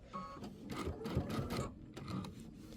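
A sewing machine stitches through a layered quilt with a scalloped border, running in steady mechanical bursts of needle chatter at close range, pausing briefly midway before starting up again.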